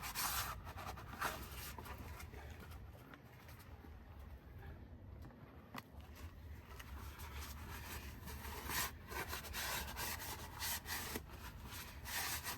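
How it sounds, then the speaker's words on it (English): Rag or scraper rubbing along the transmission pan mating surface on a 2018 Ford F250 Super Duty diesel, a steady close scrubbing that continues throughout with small scraping accents. "I'm gonna go ahead and clean the surface over here"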